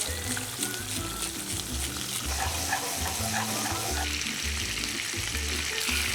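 Chicken thighs sear skin-side down in olive oil in a pan, giving a loud, continuous sizzle and crackle. Low stirring or scraping knocks run underneath, and no one speaks.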